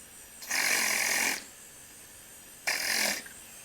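Two voiced trills produced by a single voice, one held about a second and a shorter one after a pause, both buzzing and fairly loud against a quiet background.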